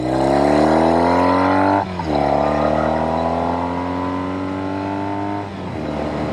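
Norton Commando 850 Roadster motorcycle engine heard while riding, a loud steady drone whose pitch climbs smoothly through the gears, with a brief dip around two seconds and another shift near the end.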